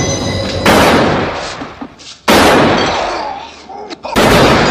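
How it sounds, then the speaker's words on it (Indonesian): Gunshots ring out in a scene from The Godfather, where Sollozzo and a police bodyguard are shot: three loud, sharp blasts spaced about two seconds apart, each followed by a booming, echoing decay. "saat dia kembali, Michael membunuh Sollozzo dan polisi yang menjadi pengawalnya"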